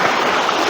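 A strong stream current rushing over small rocks near a waterfall at Thonippara, Nellettil, heard as a brief, loud, steady wash of flowing water with no voices.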